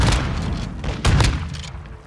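Loud, close bursts of shotgun fire from a video game, heavy booming blasts overlapping in quick succession with a dense low rumble.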